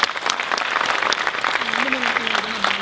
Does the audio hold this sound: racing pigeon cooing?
no